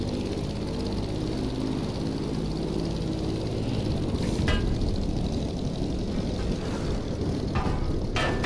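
F4U Corsair propeller plane engine in a racing game set at a motor festival, droning steadily and loudly throughout with a constant buzzing roar, a few brief higher-pitched whines breaking through near the end.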